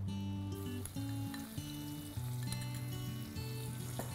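Ground onion paste goes into hot oil with turmeric for a Punjabi black chickpea curry, giving a soft, steady sizzle under quiet background music, with faint clinks and no talking.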